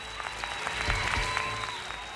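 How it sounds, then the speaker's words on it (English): A cheering crowd in the video game Yakuza: Like a Dragon, a steady roar of applause and cheers with scattered claps standing out. "The crowd is so hype."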